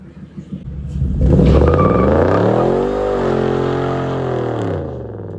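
A Coyote V8 in a 1953 Ford F100 truck revs up loudly and close, its deep rumble climbing and then falling back to idle over several seconds.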